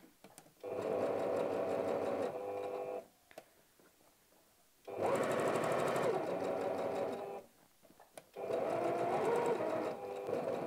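Sewing machine top stitching a ruffle shirt along the seam where two fabrics join, running in three steady, loud bursts of a few seconds each with short pauses between, with no talking.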